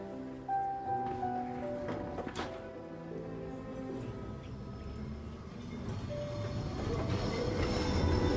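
A tram ride in the video game Syberia: The World Before, with steady rolling rail noise, wheel rumble and occasional metallic squeals that build slightly louder toward the end, heard alone without talk.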